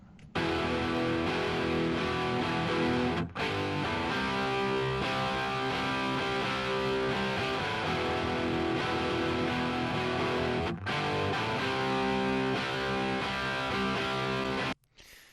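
A standard-tuned Les Paul electric guitar played through a 5150 amplifier gives loud, thick, sustained distorted chords, broken by two brief cutoffs before the sound stops near the end.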